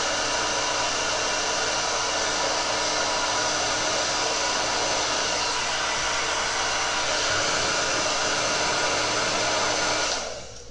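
A hair dryer runs steadily at close range with a continuous loud whoosh and motor hum, cutting off abruptly near the end, no voices present.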